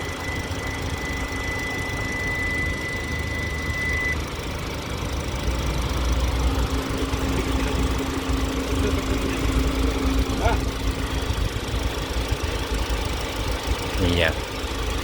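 A 2022 Hyundai Tucson's two-litre engine runs with a steady, even hum and a faint, constant whine, holding a level loudness throughout with a couple of brief higher squeaks near the end.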